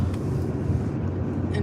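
A car drives along, heard over a voice call, as a low continuous engine and road rumble with compressed, slightly muffled quality, steady and fairly loud throughout.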